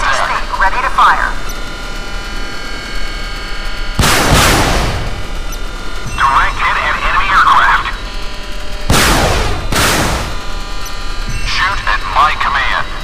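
Rocket launcher fire from the M-22 Uragan in the naval combat game Modern Warships: two loud broadband blasts ring out amid a steady game hum, with synthetic radio voice lines heard in between.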